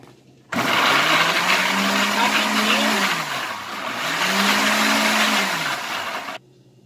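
A blender whirs loudly and steadily blending strawberry cream with ice cream, its motor pitch dipping and rising twice as the contents churn, then stops abruptly.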